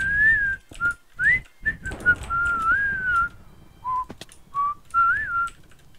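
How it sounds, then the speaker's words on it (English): Clear, melodic human whistling in a run of sustained notes and short phrases, close and fairly loud, with a faint backing of music and soft game sounds underneath during a Skywars match. "I'm just whistling along with my music."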